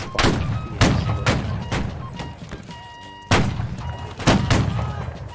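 Musket volleys crack in a Civil War battle game, a series of loud, booming shots in uneven bursts with short pauses between clusters.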